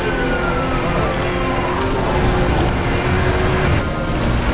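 A police car siren wails with sliding tones over loud engine and road noise during a high-speed chase in Need for Speed Hot Pursuit, sustained and close for the whole stretch.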